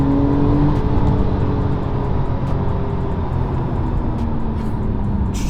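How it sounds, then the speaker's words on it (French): A Porsche 997 Carrera 4S with its 385 hp engine accelerating, heard as a loud sustained engine roar with a rising tone, heavy and steady throughout, no voices. "C'est parti pour l'accélération."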